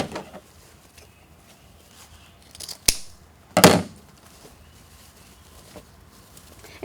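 Scissors cutting a ribbon tail while making a wreath bow: a couple of brief, sharp snips close by, separated by quiet handling rustles.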